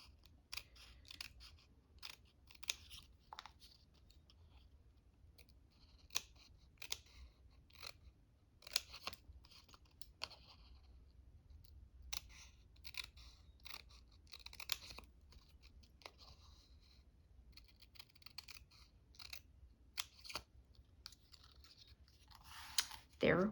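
Scissors snipping through paper during a paper-craft frame project, a long series of short crisp cuts in irregular bursts with quiet pauses, close up, ending with a louder rustle.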